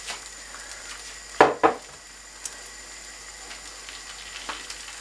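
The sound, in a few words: ham and cheese eggy bread slices frying in a pan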